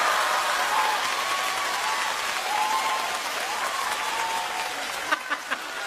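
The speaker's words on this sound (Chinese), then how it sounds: "依然还有掌声" A theatre audience at a Deyunshe xiangsheng comedy show claps in sustained, even applause that slowly fades, with a few sharper claps near the end.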